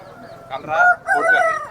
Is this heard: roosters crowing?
yes